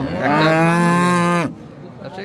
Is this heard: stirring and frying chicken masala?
no